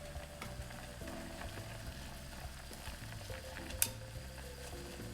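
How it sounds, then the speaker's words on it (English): Ramen noodles bubble at a rapid boil in a pot seasoned with garlic powder, a soft steady seething and bubbling with a brief sharp clink partway through. "really rapid boil, that's exactly what we want."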